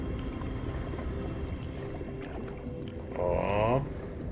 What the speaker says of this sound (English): Take a nice short swim.